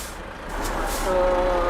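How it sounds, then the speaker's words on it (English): A Renault truck in Euro Truck Simulator 2 rumbles while reversing. A steady electronic reversing beep starts partway through, over low engine noise and hiss. "it's the worst sounding truck I've ever heard in my life"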